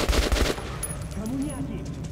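Gunfire in the video game Metro 2033 Redux: a short burst of rapid, loud shots in the first half-second, followed by quieter game ambience.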